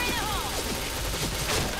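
Rapid bursts of gunfire from a first-person shooter video game, a quick fusillade of sharp shots close up with a gamer's excited talk over the action.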